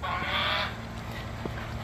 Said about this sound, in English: The geese are letting everyone know that we're back.